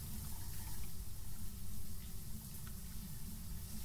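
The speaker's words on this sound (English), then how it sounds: "why is there water still running?" A bathroom tap runs in Phasmophobia's Edgefield map, producing a steady, even hiss of flowing water with no pauses or talking.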